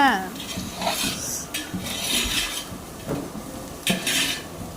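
Green chillies sautéed in a pan, scraping and clattering of a utensil against metal with a faint sizzle, close and moderately loud, in short irregular strokes.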